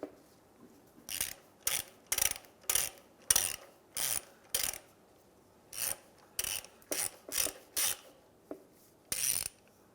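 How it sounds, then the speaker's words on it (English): Ratchet with a 17mm socket loosening the oil drain plug on a Honda Element oil pan: short bursts of rapid clicking, a dozen or so strokes, close and crisp over near silence. "With a 17mm socket, we are going to take out our drain plug in our oil pan."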